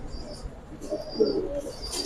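Low, throaty cooing from pigeons at a market swells in the middle, set against faint chatter and ambient noise.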